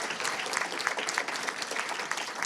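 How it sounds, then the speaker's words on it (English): An audience claps for the panellists at the close of an environmental crisis discussion session, a moderate, fairly even round of applause heard at some distance in a hall. "you might just offer another round of applause for our guests"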